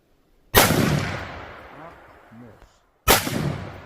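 Two sharp, loud rifle shots about two and a half seconds apart, fired at a 6-inch target through a Vector Optics Frenzy Plus 1x31x26 scope; each crack rings out and decays, with faint talk in the gap.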